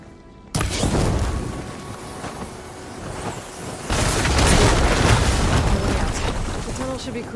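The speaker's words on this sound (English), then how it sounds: "Hitting those blaze barrels with fire ammo should do the trick" Blaze barrels exploding after being hit with fire ammo in the video game Horizon Forbidden West, as a sudden loud boom followed by a second heavy roaring blast with rumbling debris; a voice talks.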